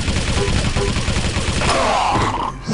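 Rapid machine gun fire in the Quake 3 team deathmatch, a loud continuous rattling stream of shots that thins out near the end under faint game noise.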